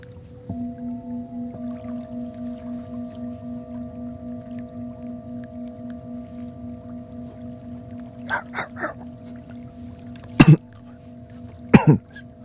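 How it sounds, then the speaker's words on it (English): A person clears their throat several times in short rough bursts, close and loud, over a steady humming tonal drone with no speech. "I was clearing my throat."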